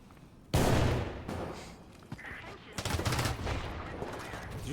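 Infantry gunfire in the video game War Thunder, a loud sudden burst of shots followed by scattered cracks and a second rattling volley, fairly close and dominating the scene.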